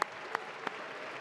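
Audience applause at a benefit gala for an anniversary celebration: steady, dense clapping from a large crowd, with a few sharper claps standing out near the start.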